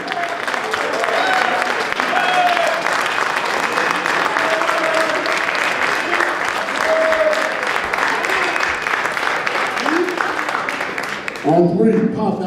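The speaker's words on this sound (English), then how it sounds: "I want you to give a big round of applause to my son, Willie Lloyd." An audience at an awards celebration applauds loudly and continuously, a dense wash of many hands with cheers and voices mixed in, easing slightly near the end.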